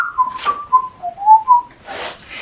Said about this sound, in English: listen to me whistle all the time